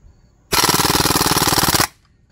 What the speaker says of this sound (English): Okay, let's go full auto,